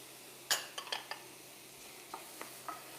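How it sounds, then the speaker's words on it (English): Chopped tomato, capsicum and corn are tipped into a pan of omelette filling, with a sharp clink followed by a few soft scrapes and light clatters over a faint sizzle, and no talk. "Now we're going to put in the tomato and the capsicum as well as the corn."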